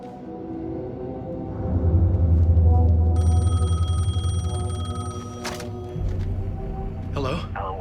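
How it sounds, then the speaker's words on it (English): A payphone rings in the video game Alan Wake 2, bright, rapid bell trills sounding over a low, swelling rumble and a tense ambient backdrop. "The payphone was ringing."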